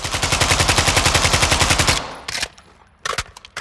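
An AKS-74UM rifle in Call of Duty Modern Warfare II fires a loud, rapid automatic burst of about two seconds with an even rhythm, followed by a few scattered shots and clicks.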